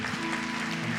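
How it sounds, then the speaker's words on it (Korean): Congregation clapping in thanks during a Sunday church worship service, a brief continuous patter of many hands with a low hum underneath. "섬김에 감사하다는 의미로 감사의 박수 한번 듣도록 하겠습니다."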